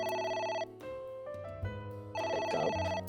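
A phone rings inside the video game AI: The Somnium Files, an electronic ringtone of bright repeating tones that plays in bursts over a steady low musical backing, loud and close with no voices.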